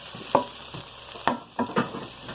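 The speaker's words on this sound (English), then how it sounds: "Cook the onions until they are golden brown." Onions frying in a pressure cooker for sarson da saag: a constant bright sizzle with a few sharp scraping stirs of a spoon against the pot, close and alone without talk.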